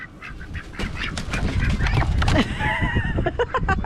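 A group of ducks on the South Coast of New South Wales honk and quack loudly and close, in overlapping nasal calls with rustling and movement underneath.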